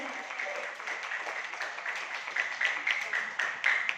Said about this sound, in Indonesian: aplaus dulu buat Bapak Ibu semuanya